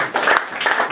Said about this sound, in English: Let's do some claps.